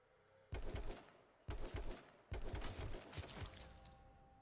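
Gunfire in the video game H1Z1: three loud rapid-fire bursts, the last one longest, cut sharply out of near silence.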